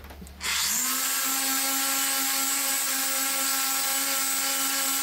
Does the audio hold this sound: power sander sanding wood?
yes